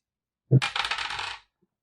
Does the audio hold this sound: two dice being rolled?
yes